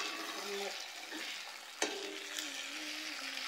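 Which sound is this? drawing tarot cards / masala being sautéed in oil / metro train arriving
masala being sautéed in oil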